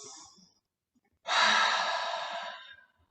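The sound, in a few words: deep breath in and out during yoga sun salutation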